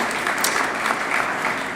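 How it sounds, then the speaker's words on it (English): Audience applause at a high school signing day ceremony, steady dense clapping from a crowd that fills the whole stretch at even loudness. "Let's give our coaches that have helped you along the way a round of applause"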